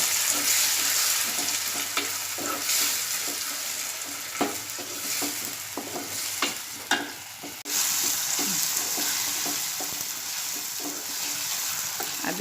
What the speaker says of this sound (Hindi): अब मैं इसमें टमाटर डाल रही हूँ। टमाटर डालकर थोड़ा भूनूंगी।